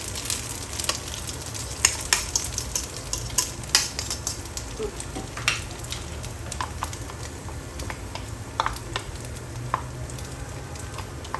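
Spaghetti stirred in a pan as egg mixed with Parmesan cheese is folded in with the heat off, giving soft scraping and clicking utensil taps over a faint, steady background, close and without talk.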